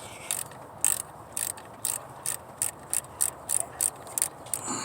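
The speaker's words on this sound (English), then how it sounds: "Get your Torx bit. And just start loosening the screws." A ratchet clicks in a quick steady series of about a dozen sharp ticks as a Torx bit loosens the throttle position sensor screws on a 1988–2000 GM C/K truck, close and clear with no talking.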